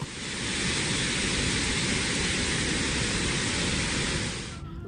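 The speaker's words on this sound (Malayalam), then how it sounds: "കനത്ത മഴയാണ് ഉച്ചയോടെ ജിദ്ദയിൽ പെയ്തത്" Heavy rain falling in Jeddah, a broad, steady hiss of downpour that is constant and fairly close for several seconds, fading slightly at the end.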